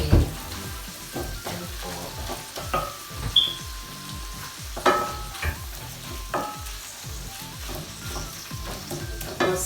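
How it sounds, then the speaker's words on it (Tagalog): Vegetables and chicken sizzle in a hot pan while being sautéed, with steady frying crackle and repeated scraping and stirring strokes throughout, and a brief spoken word near the start. "Igigisa muna po natin yung gulay sa chicken."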